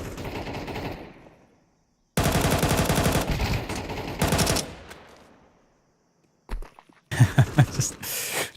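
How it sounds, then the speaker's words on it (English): Rapid bursts of gunfire trade back and forth through wooden cover in Counter-Strike during a pro league match, loud volleys separated by quiet gaps, with a final sharp flurry of shots near the end. "Just trading shots through the wood."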